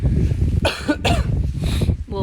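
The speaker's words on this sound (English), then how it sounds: "Leftover persistent flu cough for you" A few harsh, chesty coughs from a lingering flu, close and loud, with a short pause between bursts, in a quiet indoor space.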